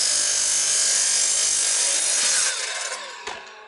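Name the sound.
sliding compound miter saw cutting wood sill plate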